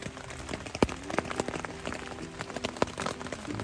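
Rain patters on a tent on an Appalachian Trail section hike on a Sunday night, a steady fine hiss with scattered louder drips striking the fabric close by.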